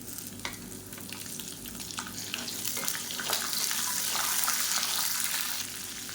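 About 150 grams of small shallots tipped into a pan of cooked masala to sauté for onion thokku, a rising hissing sizzle with light scrapes of stirring, building louder toward the end, no speech.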